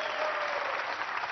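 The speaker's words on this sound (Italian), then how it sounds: "Un applauso a Carcarlo Pravettori!" A television studio audience claps steadily and loudly for an arriving guest on an Italian talk show, a dense, even wash of hands with no pauses across the short stretch.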